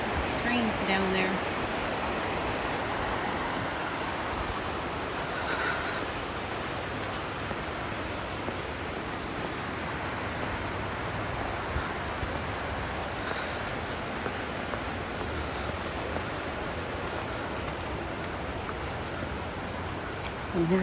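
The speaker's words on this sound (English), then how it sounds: "I knew I heard water." Steady, broad rushing of a mountain stream flowing below a hiking trail near Juneau, Alaska, a constant wash of water heard from some distance with no change in level.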